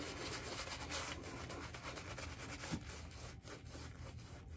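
Shaving brush scrubbed against soap to build lather for a wet shave, a steady close brushy rubbing that continues without pause and with no talk over it.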